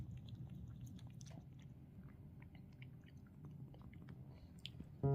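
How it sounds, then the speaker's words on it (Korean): A pet chewing food up close, faint moist bites and mouth sounds over a steady low rumble, quiet and continuous. "나비오사 주려고 했더니 등대도 먹어요"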